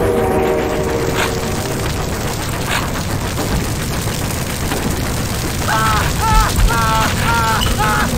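A train in the video game Blood, a loud rumbling rail roar with booming hits, mechanical clatter and repeated horn-like bursts near the end.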